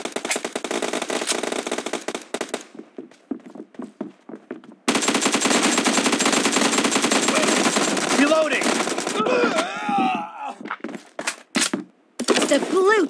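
Automatic gunfire in a PUBG team deathmatch, loud rapid bursts crackling almost continuously with brief gaps, game voice callouts and effects mixed in.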